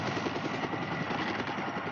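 A helicopter drones steadily with a continuous throbbing rotor and engine noise, fairly faint and unchanging for the whole stretch.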